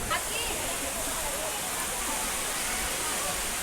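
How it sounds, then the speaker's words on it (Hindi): Roadside waterfall at Tamhini Ghat in Maharashtra, right beside the main road, producing a steady, loud broadband rush of falling water that holds constant throughout. "यहाँ पर भी एक सुंदर वाटरफॉल है।"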